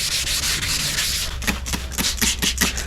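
Primer on a car panel is sanded by hand without power tools: a continuous dry, hissing rub, then rhythmic back-and-forth strokes, close and steady.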